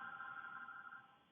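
A phone rings with a steady electronic tone, a sustained bright trill holding at moderate volume before trailing off slightly, alone with no voices.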